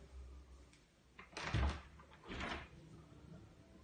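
A balcony door being opened indoors, a couple of scraping, sliding rattles about a second apart against a quiet room, with no talk.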